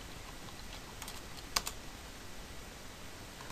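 Quiet, light keystrokes on a computer keyboard as a password goes in, a few soft taps clustered near the middle over a steady background hiss.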